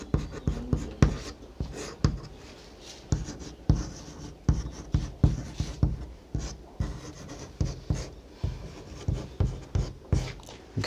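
Close, steady strokes of writing out maths working for a Class 10 real numbers exercise, rhythmic scratching taps repeating through the whole stretch without talk.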